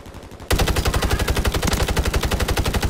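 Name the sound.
gunfire in the video game Warzone 3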